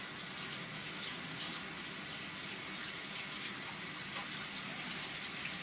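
Steady tap water runs and splashes as hands are rinsed under a faucet after rubbing in a skin scrub, a continuous close hiss with no talking.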